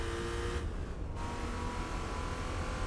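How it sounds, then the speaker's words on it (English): An old Alfa Romeo in Gran Turismo 4 launches from a race start, its engine roaring loudly and steadily with a brief dip in the upper whine, as the wheels spin under heavy revving. "Not sure wheel spinning at the start is such a good idea"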